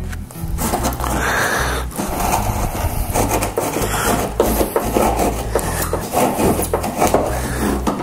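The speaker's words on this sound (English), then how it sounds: "Get my little handy dandy hacksaw." Steady back-and-forth rasping of a small hacksaw cutting wood for a battery storage organizer, loud and close, continuing without pause for the whole stretch.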